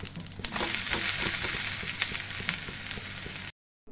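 Moong dal dosa frying in ghee on a pan gives a steady, loud, dense sizzle with small crackles and pops throughout, stopping abruptly near the end before a faint return.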